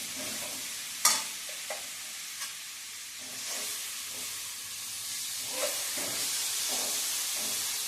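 Jaggery going into sweet potato sheera in a pan, with steady frying sizzle and stirring scrapes and a few sharp clinks of a spoon against the pan, close and alone.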